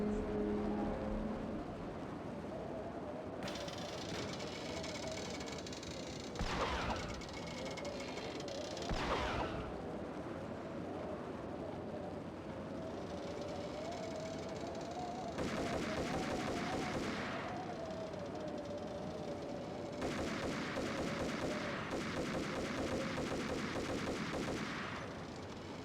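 Gunfire in the Max Payne video game rings out in loud bursts over a steady engine-like drone, with sharp shots clustered at moments and several sustained rapid volleys later on.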